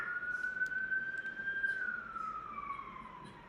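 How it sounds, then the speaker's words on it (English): An emergency vehicle's siren passes in a steady wail that holds, then slowly falls in pitch as it moves away, moderately distant and heard alone under a low room hum. "I just wanted the siren to go by"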